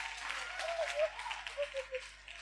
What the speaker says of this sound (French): Il faut acclamer pour moi